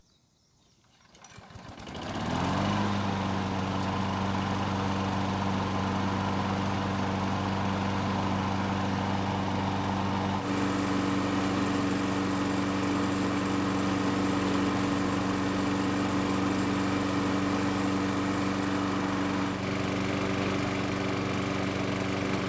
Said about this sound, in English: I think it's finally time to prime the engine and then try starting it.